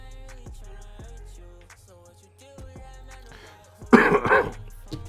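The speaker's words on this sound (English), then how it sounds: "Sorry for the coughs." A few scattered throat clears and small coughs from a man recovering from a respiratory infection, then a louder burst of harsh coughing near the end, close to the microphone.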